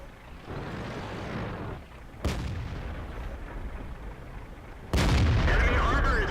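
Tank cannon fire in a World of Tanks Jagdtiger replay: two heavy, sharp booms about three seconds apart, each followed by rumbling engine and battle noise that stays loud throughout.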